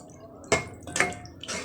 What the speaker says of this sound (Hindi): अब इसमें ये छोले डाल रहे हैं।